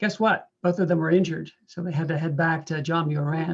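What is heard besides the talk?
No everyday noises stand out.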